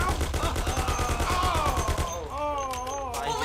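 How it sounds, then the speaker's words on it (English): Rapid automatic gunfire in the Mafia video game, a dense rattling burst under agitated voices for the first two seconds, then fading as a voice carries on alone. "Lord, it's shooting here!"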